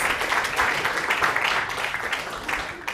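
An audience at a pitch competition event claps steadily, a dense wash of applause that holds throughout with no voices over it.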